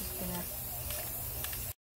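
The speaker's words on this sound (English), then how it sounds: "let me go ahead and spray paint these" Continuous hiss of an aerosol can of red high-gloss spray paint held close to terra cotta pots, with a few faint clicks and rattles, cutting off abruptly near the end.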